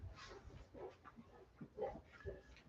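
A dog in the back of a vehicle makes assorted snorts, grunts and panting noises, soft and irregular, fairly close but low in level.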